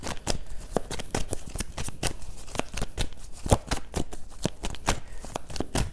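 Tarot cards being shuffled for a reading, with rapid, crisp riffling and slapping bursts in a fast, uneven rhythm, close and alone without talk.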